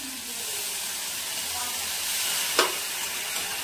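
Water poured into spiced masala that has already been fried in oil, for a borili fish curry, sets off a steady close hissing sizzle with one brief sharp splash or clatter partway through.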